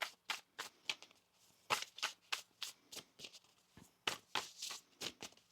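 A tarot card deck being riffled and shuffled up close, a quick series of crisp rustling bursts in an uneven rhythm, quiet and with no talking.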